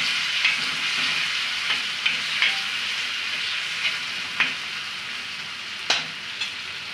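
Bhaji mixture with butter sizzles steadily in a frying pan for Mumbai masala pav, with close spoon scrapes and stirring knocks breaking through the constant frying hiss.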